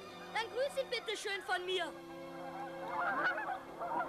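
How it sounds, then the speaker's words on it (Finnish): A flock of geese circles overhead in flight, honking in a quick run of calls that gives way to a denser, overlapping chorus, fairly close and clear. "Hanhilauma kaarteli vielä hetken pojan ympärillä."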